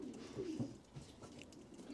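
Racing pigeons coo in a loft with low, throaty, rolling calls that repeat several times and sound close and moderately loud.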